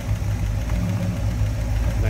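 A 1964 Plymouth Barracuda's 318 V8 idles steadily, a low, even rumble with a faint rhythmic lope, heard up close in a clean engine bay while someone talks over it.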